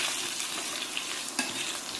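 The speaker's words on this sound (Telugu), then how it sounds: "1 స్పూన్ ఆవాలు అలాగే 1 స్పూన్ జీలకర్రను కూడా వేసుకుని ఇప్పుడు వీటిని కూడా మరి కాసేపు వేగనివ్వాలి" Mustard seeds and cumin seeds fry in hot oil for a Telugu crab curry tempering, giving a soft, continuous sizzle with faint crackles and a brief stir near the end, fairly quiet.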